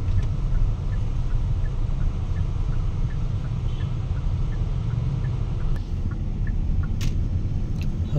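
Busy morning city traffic in Ho Chi Minh City forms a continuous dense rumble of engines, with a few faint horn toots rising out of the steady wash.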